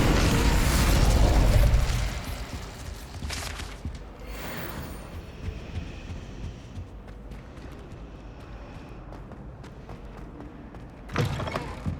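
An Incendio-style fire spell cast in Hogwarts Legacy, a loud roaring whoosh for the first two seconds that fades into quieter mechanical game sounds, with a short sharp burst near the end.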